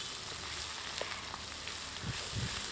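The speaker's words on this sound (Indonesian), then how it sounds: "Kita tumis bumbu-bumbu yang tadi sudah dihaluskan, kita tumis" Ground spice paste sautéing in hot oil for Indonesian nasi jagal beef: a steady, soft sizzle throughout, with a few faint stirring scrapes near the end.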